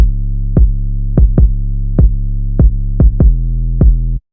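A sustained bass tone in FL Studio dips sharply each time a punchy kick drum hits, making a pumping, ducking pattern across about eight kicks. The bass is loud and up close, then cuts off at the end.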